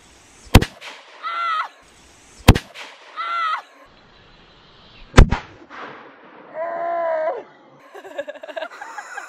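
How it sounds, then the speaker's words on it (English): Three sharp, loud gunshots fired at a shooting outing, evenly spaced a couple of seconds apart, each a sudden crack with brief echo, with people talking in between. "Okay, reload. You got 2 more shots, Trini"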